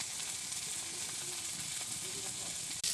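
Chopped tomatoes hit a hot pan for a Bengali rohu fish curry with okra and potato, sizzling in a loud, steady, close hiss that continues unbroken.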